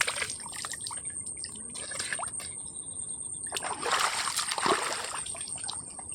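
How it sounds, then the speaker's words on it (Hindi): Clean mountain water flowing down through a forest, a steady trickling and splashing stream with dribbles and drips close by, swelling slightly louder midway, with no talk over it. "ये पहाड़ का ऊपर से पानी आता है, बहुत अच्छा पानी है, कितना शुद्ध पानी है।"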